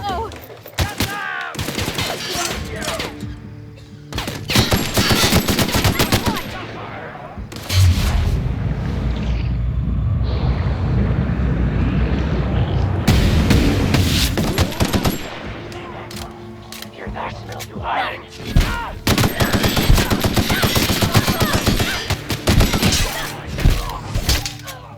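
Gunfire in the video game The Outer Worlds comes in repeated sharp bursts and rapid volleys across the scene, loud and close, with a short lull in the middle and a voice talking between shots.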